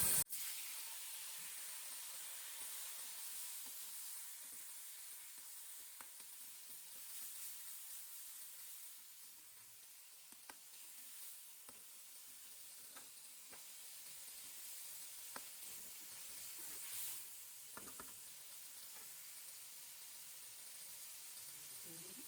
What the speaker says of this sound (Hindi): तो कढ़ाई में जो है वो आधा किलो टमाटर शामिल करते हैं।